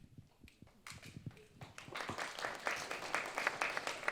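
Scattered claps building into steady audience applause at a film screening, starting sparse and rising into a dense, continuous patter with a few faint voices mixed in.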